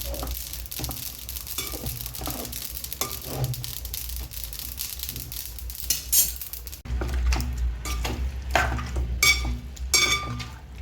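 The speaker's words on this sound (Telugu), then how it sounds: "వేగండి. ఇది ఉడకబట్టింది మాంసం. నీళ్ళన్నీ ఎగిరిపోవాలి." Boiled broiler chicken frying in oil in a pan for pachadi, a steady close sizzle broken by repeated clinks and scrapes of a utensil stirring the meat against the pan.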